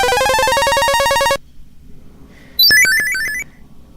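A loud, bright chiptune power-up jingle in Famicom Disk System audio, a rapid run of buzzy stepped tones lasting over a second, followed after a short pause by a higher sparkling flurry of quick chirping notes.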